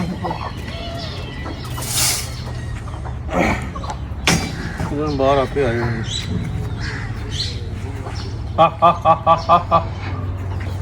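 Pigeons and chicks call in a loft, with a burst of about six sharp, evenly spaced squawks near the end, close and loud over steady talking.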